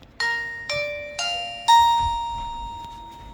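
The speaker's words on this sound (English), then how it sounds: "this is the actual doorbell unit that when they ring the bell," A Blurams doorbell camera's indoor chime rings out four clear, bright tones in a descending ding-dong pattern, each note struck crisply and left to ring and fade, the last one sustaining longest.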